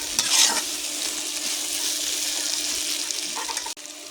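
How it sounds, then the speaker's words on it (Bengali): Hilsa fish curry sizzles steadily in hot oil while being stirred, a close, continuous frying hiss with brief scraping touches near the start and a short break toward the end. "আমি আবারও ভালো করে নেড়ে দিলাম। তো দেখুন আমার তরকারি কষানো হয়ে গেছে।"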